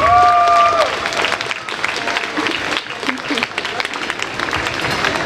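An outdoor crowd at the March for Life in Bratislava claps steadily to welcome a speaker named Kamila, a dense wash of applause following a brief tone at the start, with voices mixed into the crowd.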